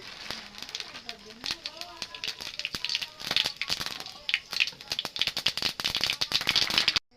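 Panch phoron spices dropped into hot oil in a wok crackle and pop in sharp, rapid bursts that grow louder and denser, with someone talking over the start.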